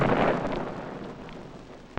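Heavy boom from a supersonic Lockheed F-104A Starfighter jet, a loud broad rumbling blast at the start that slowly decays into a lingering low roar, with no voices.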